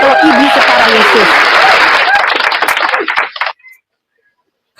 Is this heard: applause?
yes